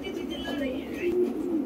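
Soft low cooing of Punjabi Malwai pigeons, a couple of gentle warbling calls close by, with a faint voice in the background.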